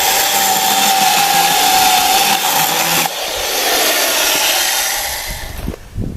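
A 1970s Sears Powersharp electric chainsaw cuts through oak, giving a loud, steady motor whine with chain rasp. The tone shifts partway through as the bar bites deeper, then the motor winds down near the end.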